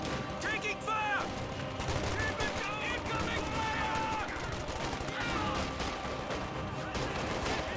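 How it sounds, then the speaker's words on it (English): Volksgrenadier rifle fire in Company of Heroes 2 battle, rapid overlapping gunshots and bursts crackling continuously amid dense battlefield noise, with whistling projectiles and distant explosions mixed in. "Volksgrenadiers firing away from some good heavy cover"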